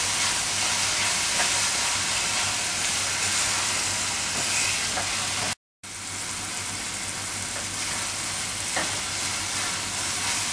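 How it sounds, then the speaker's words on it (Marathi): Tomatoes cook in a pan for a Marathi black-eyed pea chavali usal gravy, giving a loud, steady sizzle and hiss that runs continuously, broken only by a brief cut partway through. "टोमॅटो मऊ होईपर्यंत शिजवून घ्यायचं आपल्याला"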